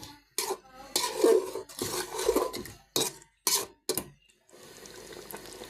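Garam masala paste being stirred and fried in a pot for a home-cooked dinner dish, with irregular scraping and clanking bursts of a utensil against metal separated by short pauses, and a soft steady sizzle at the end.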